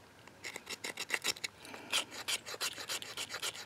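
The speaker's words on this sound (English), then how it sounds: "Just take your piece of fat wood and a scraper. You can use your knife." Repeated rasping scrapes of a knife spine or scraper along a piece of fatwood, about a dozen quick strokes in a steady rhythm, close and crisp with no talking.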